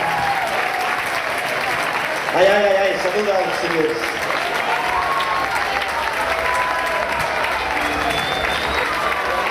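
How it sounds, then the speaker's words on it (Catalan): Audience applause for a band member being introduced with his group, a continuous wash of clapping with a voice speaking briefly over it. "Hola, Esteve, un aplaudiment."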